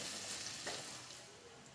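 Sliced onions fry in a pan until brown, giving a soft, steady sizzle that is faint and continuous and fades slightly toward the end.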